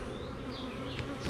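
Honey bees buzzing in an opened hive colony, a dense, steady droning hum with individual bees passing close, brief and fairly quiet.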